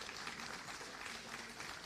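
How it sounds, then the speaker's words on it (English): An audience at a conference plenary session applauds a presenter, a steady even wash of many people clapping from start to end, fairly faint and distant-sounding. "Give her another round of applause."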